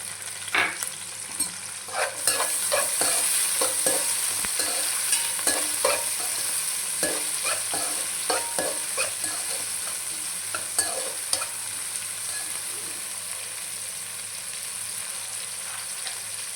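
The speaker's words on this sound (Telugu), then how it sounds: "జీడిపప్పు బాగా ఫ్రై అవ్వాలన్నమాట ఇది" Cashews and capsicum pieces fry in a pan for a function-style chicken fry, giving a steady close sizzle broken by frequent scraping stirs throughout, with no talking.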